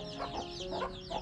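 Chickens cluck and murmur steadily inside a coop kept shut on a rainy day, several birds close by in a continuous low chatter with no talking.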